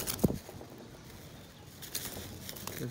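A frightened new female Lal Dom pigeon of a big-size breed thrashes in its cage, with a sharp, close wing flutter early on, then softer rustling and a brief coo-like call near the end.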